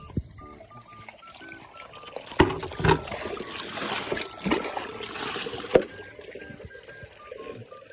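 Spring water trickles gently and steadily nearby, with a few soft splashes and knocks, and no talking.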